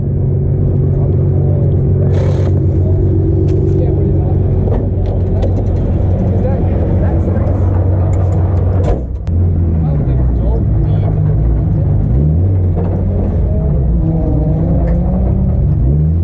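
A drift car engine rumbles loudly and close, its pitch rising and falling as the vehicle accelerates, with talking heard over the droning motor.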